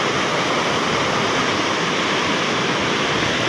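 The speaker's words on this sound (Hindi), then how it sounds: "ये जो जहाँ से पानी आ रहा है ये दोस्तों फिक्स होता है" Loud, continuous broadband rush of water pouring through a fixed sluice gate, steady and close with no pauses or voices.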